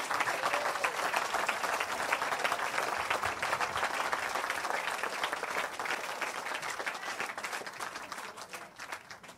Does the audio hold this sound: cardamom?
no